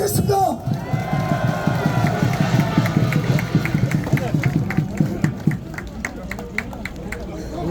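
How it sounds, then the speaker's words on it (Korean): A crowd at a rally claps and cheers in a dense, sustained burst of applause mixed with voices, thinning out toward the end as a steady rhythmic mechanical pulse comes through. "박수 부탁드리겠습니다."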